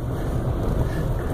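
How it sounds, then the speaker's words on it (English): Gusty Midwest wind of 15 gusting to 30 miles an hour buffets the microphone with a steady, loud low roar and rushing noise, swelling slightly in gusts, with no voices. "today we have winds of 15 gusting to 30 miles an hour"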